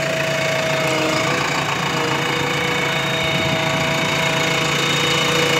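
A 2021 JCB machine's engine idles close by with a steady, even drone and a faint knocking texture, running continuously without any voices.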